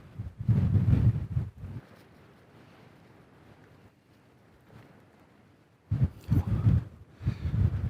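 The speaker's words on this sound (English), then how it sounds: "That wind is bitterly cold." Cold, gusting wind at a wild camping spot buffets the microphone in heavy rumbling bursts at the start and end, with a softer steady rush of air in between, and no voices.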